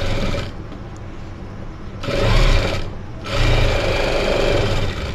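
A sewing machine stitches a jacket kurti, running in loud close bursts with brief pauses between them, a fast mechanical whir and rattle.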